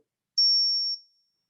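A single struck ring sounds out: a pure, high metallic tone that holds steadily for about half a second, then fades quickly into silence.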